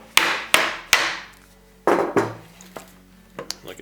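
Hammer tapping gently on a resin mold, three sharp ringing knocks in quick succession, then a pause and two more taps, followed by a few lighter clicks and handling noises, close and clear.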